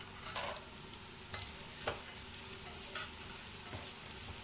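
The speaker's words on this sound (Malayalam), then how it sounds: "ഇനി നമുക്ക് മുന്തിരി ഇട്ട് കൊടുക്കാം" Cashews and raisins frying in hot ghee in a pan for chicken biryani, a continuous quiet sizzle broken by several short bursts of stirring and crackling spatters, with no voices.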